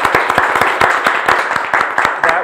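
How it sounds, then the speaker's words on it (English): A live audience claps for the Racine Symphony Orchestra after it plays Bach's Concerto for Two Violins in D minor, with distinct, close, rhythmic hand claps mixed into a fuller round of applause. "Another round of applause for the Racine Symphony Orchestra."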